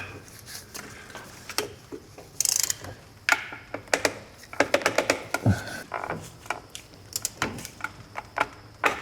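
Clicks and ratcheting of a wrench torquing clutch bolts to 36 pound-feet, irregular metallic ticks and clacks in short bursts with sharp knocks, close and fairly loud, no voices.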